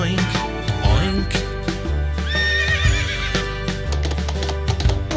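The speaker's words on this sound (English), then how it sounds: "It's a big horse. Neigh, neigh, neigh." A horse gives a loud neigh and whinny over a busy musical backing with clip-clopping hooves, the call rising and wavering near the middle.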